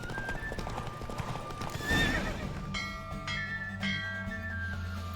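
Horse hooves clip-clop at a steady gallop through wheat fields in The Witcher 3, with a loud whinny around the two-second mark and soft game music underneath.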